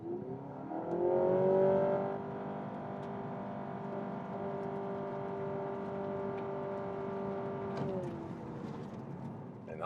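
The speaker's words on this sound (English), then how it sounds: "Let's start with some acceleration." A Honda Civic hybrid with the e:HEV system accelerates, giving a smooth, rising engine and electric whir that swells early, then holds a steady tone before easing off near the end, with no voices over it.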